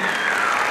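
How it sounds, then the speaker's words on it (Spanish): A crowd applauds teachers at a farewell choir and dance event, a loud, dense burst of clapping that fills the brief moment. "Y les damos un fuerte aplauso, por favor."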